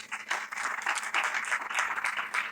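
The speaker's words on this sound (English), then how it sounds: "A big round of applause" An audience at a national conference on GST claps in a steady, moderately loud wash of applause for a couple of seconds, with no voices over it.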